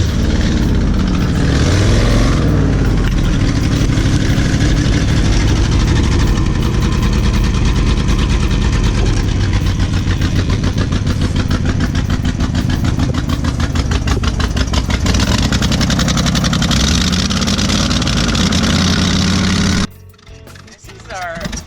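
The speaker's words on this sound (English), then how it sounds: "This is our heavy cam low idle." A 1967 Ford F250 camper special with a heavy cam idles loudly and close up, its lumpy, loping rhythm running steadily before the engine cuts out near the end, with voices heard over it.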